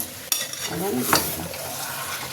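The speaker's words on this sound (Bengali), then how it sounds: "মাংসের সঙ্গে আলু দিয়ে দিলাম, একসাথে দুটো কষবো" Chicken and potatoes sautéed together in hot oil, giving a steady close sizzle and frying crackle with a sharp stir or scrape near the start and another brief stirring burst partway through.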